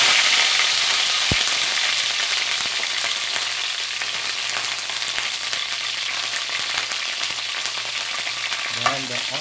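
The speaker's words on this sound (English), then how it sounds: "first we are going to fry the garlic" Garlic fries in olive oil in a pan with a loud, steady sizzle and crackle, close up, with a few soft stirring clicks and no talking.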